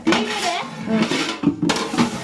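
Dishes and pots are washed in a home kitchen, with several close clinks and knocks of metal and crockery set in an irregular rhythm.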